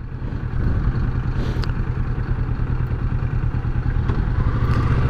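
A Kawasaki Versys 650 ABS motorcycle engine braking rumbles steadily and loudly at close range, a continuous low throbbing drone with faint clattering, no voices.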